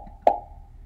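One short, bright pop from a Scratch game, a single quick plop in near-silence over a faint background hum.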